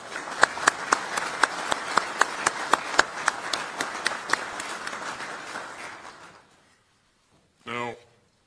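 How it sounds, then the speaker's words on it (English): A crowd of military leaders and officials at a defence ministers' gathering at Ramstein gives a round of applause. Sharp hand claps run steadily for several seconds and then fade out, followed by a brief voice. "Let's give them all a round of applause."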